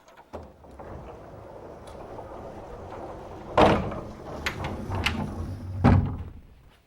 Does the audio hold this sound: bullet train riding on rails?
no